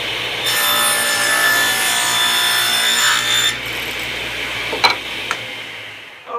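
A hand saw cutting through a piece of wood for an iPhone tripod mount, steady rasping strokes up close that stop, followed by a couple of light knocks.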